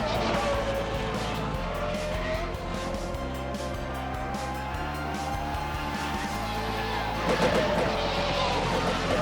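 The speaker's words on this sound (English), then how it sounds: "You can hear the gearboxes." Video game racing cars roar steadily with engine pitch rising and falling, tires squealing at moments, and sharp gear changes breaking the continuous drone.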